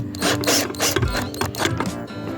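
Screws being driven into a fish finder mounting bracket for a Garmin EchoMap UHD 73SV, with a close, rapid ratcheting whir that pulses in short bursts with brief pauses.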